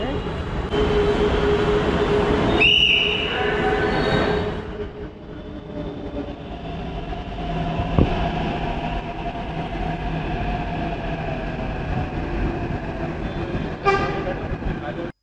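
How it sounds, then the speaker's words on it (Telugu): A Hyderabad metro train pulling into a station, a rumbling, whining approach with a short horn toot early on, a chime-like signal near the end and a crowded platform murmuring underneath. "మెట్రో ట్రైన్ అయితే వచ్చేస్తుంది."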